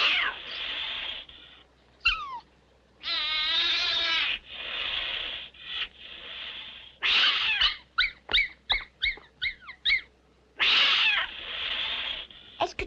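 A small cat in a quiet town street meows repeatedly, a series of drawn-out, wavering cries followed by shorter, sharp yowls and mews close up, with brief pauses between calls.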